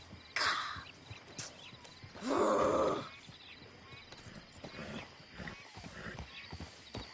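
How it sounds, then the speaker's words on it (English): A horse acting up: snorting, blowing breaths and shifting hoof sounds close by, with one loud broad snort-like burst standing out, amid quieter rustling. "Damn horse acting up on me"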